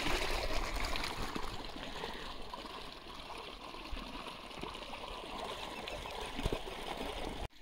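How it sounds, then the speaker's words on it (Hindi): Irrigation water from a motor-pumped well runs slowly into a garlic field, a steady, continuous rushing trickle with small splashes that holds at an even level throughout, with no voices. "पानी बहुत कम कम आ रहा है, मोटर चल रही है लहसुन की खेत में"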